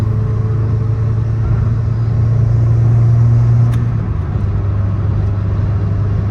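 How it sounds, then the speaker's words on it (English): A car's engine runs steadily after a cleaning treatment, a loud, close, continuous low rumble with a smooth even drone and no talk over it. "The car seems to be running fine."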